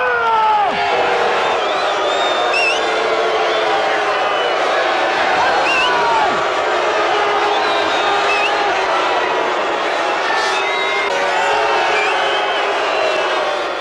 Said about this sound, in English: Big cheer for Chuck Noll!